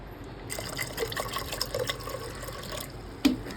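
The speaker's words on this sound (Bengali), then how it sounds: "একটু জল দিয়ে দিই" Water pours onto chickpeas in a pressure cooker, making a close splashing trickle with small drips and a brief louder splash near the end.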